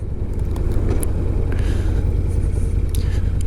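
A new motorcycle engine runs at low RPM while riding at about 25 miles an hour, a loud, close, steady pulsing rumble with no talking.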